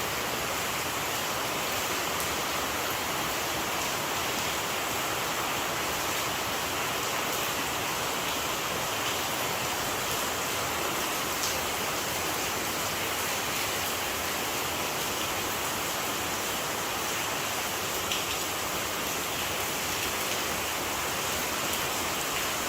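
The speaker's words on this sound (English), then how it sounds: "Don't stop raining." Heavy rain pours down in Jamaica as a dense, unbroken roar of falling water that holds steady and loud throughout, with no voices heard.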